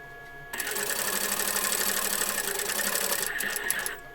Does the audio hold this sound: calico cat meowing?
no